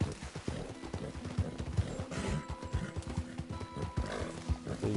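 A horse in a PS4 video game clops along in a rapid, irregular run of close hoofbeats, with snorting and a brief whinny, moderately loud under faint game sounds.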